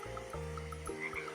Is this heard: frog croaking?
yes